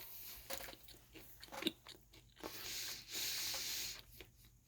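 Crunchy bites and chewing on a dry, grain-free paleo cinnamon granola bar, heard close up as quiet irregular crunches and rubbing mouth sounds with no talking.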